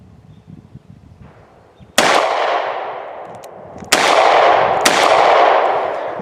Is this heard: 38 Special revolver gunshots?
yes